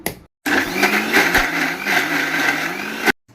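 A mixer grinder grinds ingredients for tomato pickle, whirring loudly for about three seconds, starting abruptly and cutting off sharply, a steady high-pitched grinding drone.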